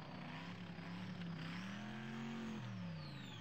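A supercharged Top Methanol dragster drag racing down the strip, its loud continuous engine roar rising then dropping in pitch as the car passes, with no voices over it.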